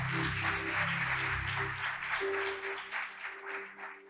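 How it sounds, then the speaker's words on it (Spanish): A church congregation claps steadily and fairly loudly throughout, a dense sustained applause with a held tone beneath that thins out toward the end. "Dele fuertes aplausos al Señor"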